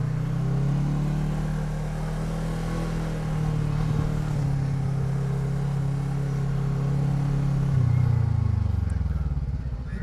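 A Voge 500DS (Loncin DS7) motorcycle runs through a slalom test, its engine droning steadily at low revs from close by, pitch sagging and rising slightly as the rider weaves, then dropping near the end.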